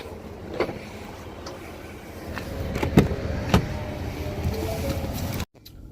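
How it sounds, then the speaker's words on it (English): The power tailgate of a 2019 Ford Expedition Limited Max closes by itself: a low electric motor hum with a couple of clicks and thuds, ending in a firm latch before near silence. "I just like to hit the button up here to make the vehicle close it by itself"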